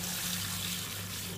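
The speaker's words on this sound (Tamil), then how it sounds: "இதை தண்ணி ஊற்றி" Water pouring steadily into a bowl of pearl millet for washing, a continuous close splashing rush with a low hum beneath, without pause or talk.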